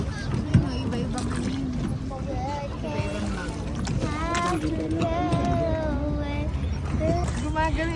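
Riding in a small boat on water, with a steady wash of water and hull noise throughout while several people talk and call out close by.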